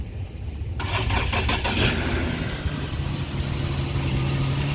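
A 2013 Infiniti G37, just fitted with a new alternator and reconnected battery, cranks briefly with a fast rhythmic whir before the engine catches and settles into a steady, close idle.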